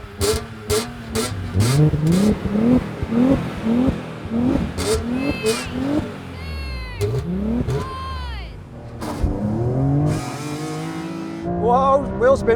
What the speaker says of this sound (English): Whoa, wheel spin. This launch control is mega.